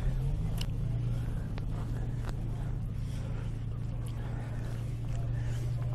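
A Triumph Vitesse's V6 engine idles with a low, steady rumble at a classic car show, close by, while people talk over it.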